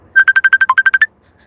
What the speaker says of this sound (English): Get a phone call.